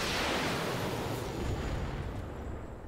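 Artillery fire in the video game Roguepoint, a loud, dense broadband roar of blasts that rumbles continuously for about three seconds and slowly tapers, with no distinct separate shots.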